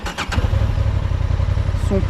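A 2025 Honda Transalp 750 A2 motorcycle idles close by with a steady, low, rumbling engine throb. A few sharp clicks come near the start, and a brief voice is heard at the end.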